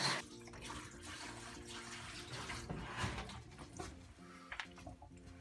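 Water pours from a tap into a newly plumbed kitchen sink and gurgles down the drain, a continuous splashing rush with bubbling and a few drips, fairly quiet and close.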